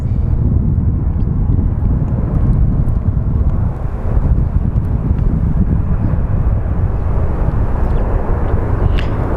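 A small Embraer airliner on approach over Phoenix Sky Harbor International Airport, a steady broadband engine roar holding for several seconds with wind buffeting the microphone and no talk.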